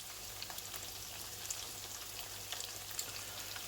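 Fish goujons fry in hot fat with a soft, even crackle and occasional faint pops, fairly quiet and steady, no talking.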